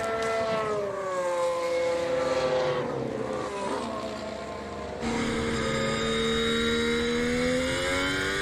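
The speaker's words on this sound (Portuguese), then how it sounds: "Os carros estão dando as suas voltas ainda finais" Formula 1 cars lap the British Grand Prix circuit during 2021 free practice, with high-pitched engine whines rising and falling as they pass, one car fading out and another sweeping in loud and close.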